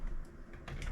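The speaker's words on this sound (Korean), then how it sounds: "오케이 엔터 키를 누르면 이제 준비가 되고 있는 거예요" Computer keyboard keys pressed during file setup for converting 8mm videotape to digital, a few close, fairly loud clicks with a brief burst near the end.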